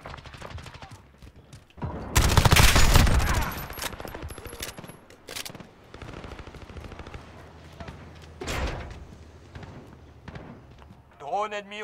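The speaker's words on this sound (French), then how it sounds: "Là, les balles elles fusent dans le noir comme ça." Bursts of automatic gunfire crack through a night-mode multiplayer match in Call of Duty Modern Warfare, one loud close volley dominating before scattered shots and footsteps continue under ongoing talk.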